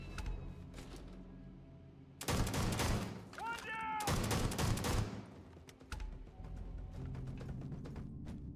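Gunfire in the sci-fi game Starfield, a heavy loud burst of rapid shots in two clusters over ambient background hum, with brief mechanical whirring between volleys.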